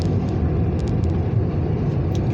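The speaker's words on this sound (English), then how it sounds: "I'll turn up the fan and pump it through the car." A car's air conditioning fan runs at a raised setting, giving a steady, even rush of blown air that fills the cabin with no break or change in level.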